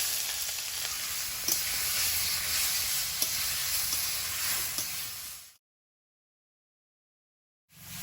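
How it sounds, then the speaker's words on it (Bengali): Potato pieces frying in hot oil with a bay leaf and a whole dried red chili, a loud continuous close sizzle with a few faint stirring knocks, then it cuts to silence before the sizzle returns. "আলুটা দিয়ে আলুর কাঁচা গন্ধটা একটু ভেজে বের করে দেবো"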